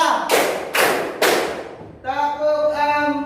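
A group claps together in a counted rhythm, three sharp loud unison claps at an even pace, then a voice chants a sustained sung call right after.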